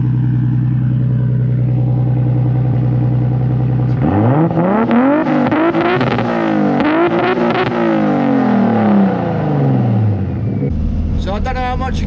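A Lexus IS200 with a newly welded exhaust idles low, then revs hard several times in rising and falling sweeps, loud and close from behind the car, before dropping back and ending under a brief voice.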